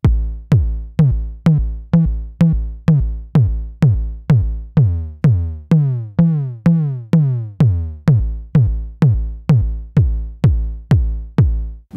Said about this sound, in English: here's the kick. And the way I did it is by simply modulating the pitch to give that punchy kick kind of sound